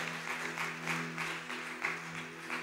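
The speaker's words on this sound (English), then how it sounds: "Let's clap unto our Lord Jesus." A church congregation claps in worship during a prayer service, a rhythmic run of hand claps in regular pulses over a sustained tonal backing, moderately distant and even in loudness.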